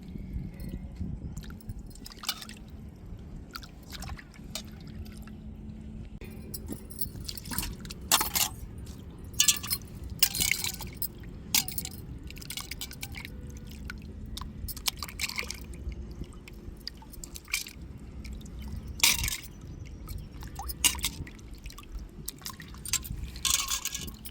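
Goat brains being gently rinsed by hand in water, with continuous soft sloshing, splashing and dripping, irregular wet bursts close up throughout.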